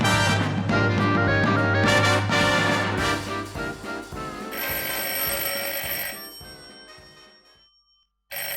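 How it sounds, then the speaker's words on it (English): An old-style telephone bell rings loudly and continuously in bright, rapid trills, then the tone changes and fades out with a few final rings before a brief silence. "the phone rang just as I was"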